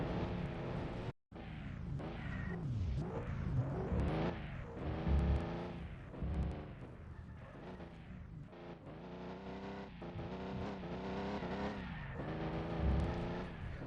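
Race car engines in a mobile racing video game, heard in the pit lane as cars drone and rev past, with a layered, fairly quiet whine that swells and fades repeatedly.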